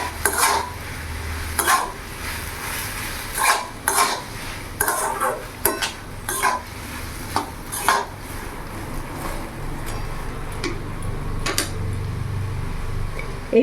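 Ginger and green chili paste being stirred into kochu loti (taro stolons) in a pan, a steady run of scraping spatula strokes and metal clinks against the pan over a low background, with no talk.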